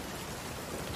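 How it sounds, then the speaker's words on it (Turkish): Rain falls in the pirate video game Sea of Thieves as a steady, dense hiss of patter that stays even and fairly faint through the short moment. "Yağmur yağıyor."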